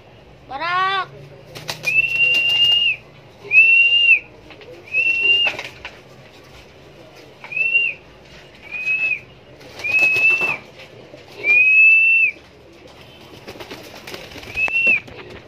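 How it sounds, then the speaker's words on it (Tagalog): Pigeons making repeated, drawn-out calls at close range, about ten evenly spaced notes with short gaps, plus a brief flutter near the start. "Yan mga kalapati kids."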